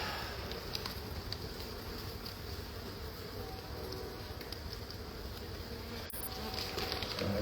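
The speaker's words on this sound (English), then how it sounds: "It's got a lot of bees on it" Steady insect buzzing fills the background, a dense hum of many bees close by from an old hive inside an interior wall, continuous with no talking.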